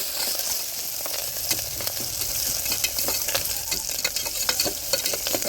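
Steady sizzling of food frying in a pan, with occasional scrapes and stirring clicks close by, continuous and fairly loud, no voices.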